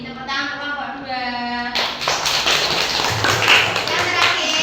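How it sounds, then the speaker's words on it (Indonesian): Children in a classroom clap their hands together in a burst of group applause, beginning after a short stretch of voices and continuing steadily at moderate loudness. "Tepuk tangan untuk kelompok 2."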